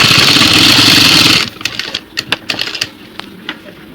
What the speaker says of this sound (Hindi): अभी इसे दाब भर के फिर से सिलाई मारेंगे